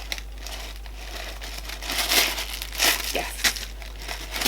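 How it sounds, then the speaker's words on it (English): Tissue paper crinkles and rustles as it is handled inside designer bag packaging during an unboxing, a close, fairly quiet crackling that swells into several louder crumpling bursts, with no talking. "Lots of tissue paper on the inside."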